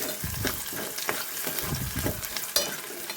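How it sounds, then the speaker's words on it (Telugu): Chopped onion pieces sizzling steadily in a hot pan for a raw banana and mango tamarind stew, a continuous close crackle with occasional stirring scrapes. "ఉల్లిపాయ ముక్కలు మగ్గిపోతున్నాయి"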